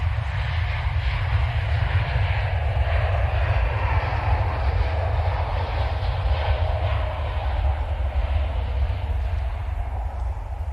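A TUI Boeing 787-9 Dreamliner taking off from Manchester Airport: a steady, loud, broadband jet roar with heavy low rumble, sustained throughout without voices.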